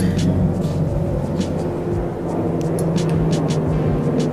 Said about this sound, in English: sounds like the damn airplane is about to land on my roof